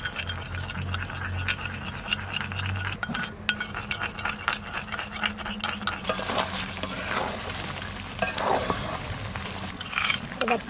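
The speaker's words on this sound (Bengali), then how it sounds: "সামান্য একটু দই নিয়েছে এটা ফাটাই নেবে ভালো করে" Yogurt is beaten smooth in a bowl for dhaba-style mutton kosha, quick clinking and scraping strokes of a spoon against the vessel over a faint background hiss, loudest toward the end.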